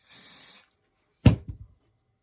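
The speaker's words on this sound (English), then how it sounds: "Just get some super strong holding hairspray." A short, close burst of aerosol hairspray misting a gnome's beard, followed after a pause by a few soft knocks as the can is handled; no speech.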